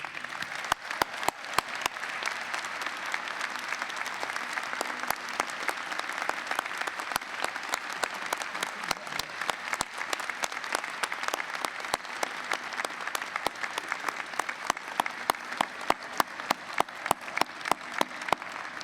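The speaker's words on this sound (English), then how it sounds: "I just want everyone to give Dean Jeremy Paul a great round of applause." A large commencement audience gives a sustained, steady round of applause for the law school's outgoing dean, dense crowd clapping with sharp individual claps standing out throughout.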